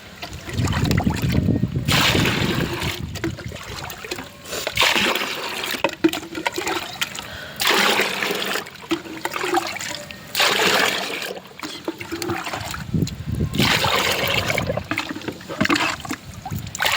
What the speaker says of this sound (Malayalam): ഇതിന്ന് വെള്ളം എടുത്ത് നമുക്ക് മിക്സ് ചെയ്യാം കേട്ടോ.